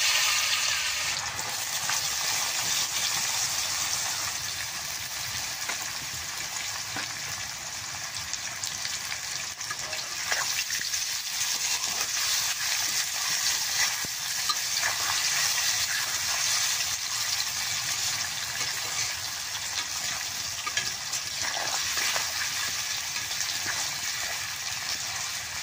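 Jackfruit pieces fry in hot oil in a kadai, a loud, dense, continuous sizzle close up with bubbling crackle that holds steady throughout, no voices.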